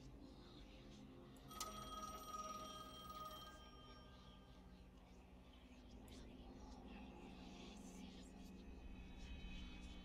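A telephone rings in the horror game The Medium, its bright repeating bell cutting in for a couple of seconds over a low ambient drone while a voice speaks softly underneath.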